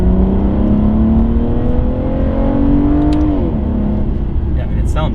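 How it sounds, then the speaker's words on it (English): A 5.9-liter naturally aspirated V12 in an Aston Martin Rapide S, revving with a steady, rising engine tone that dips briefly, loud and sustained over road noise. "obviously the naturally aspirated V12 is absolutely awesome"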